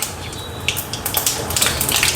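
Mustard seeds dropped into hot oil in a kadhai for kadhi tempering, crackling and spitting in a dense, close burst that grows busier over two seconds.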